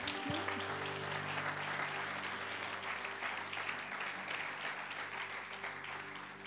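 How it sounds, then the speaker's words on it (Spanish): A church congregation in New York applauds steadily, a dense, sustained wash of clapping that stays even throughout, with a low hum and tonal background sound underneath. "Denle un aplauso"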